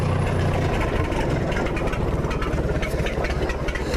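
An old vehicle engine idles loud and close, a rough, steady rumble with uneven chugging that stays high and refuses to settle down.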